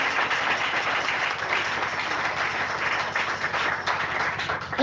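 A church congregation applauding and clapping to acclaim Jesus, producing a dense, continuous roar of hands that stays loud and even throughout, with no clear voices on top.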